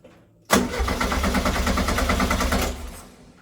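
A car engine fitted with a 44IDF Weber carburetor catches suddenly and runs loud and rough for about two seconds, then cuts off abruptly, close by with no speech.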